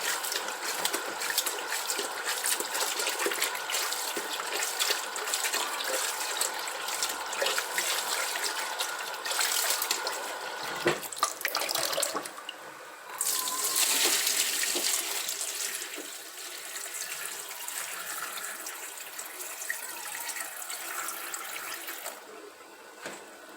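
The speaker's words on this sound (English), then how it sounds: "I'll be adding water for the last time." Running water poured into a bowl of black-eyed peas being peeled at home, a steady rushing flow from a tap that shifts in strength and splash partway through, with no talk over it.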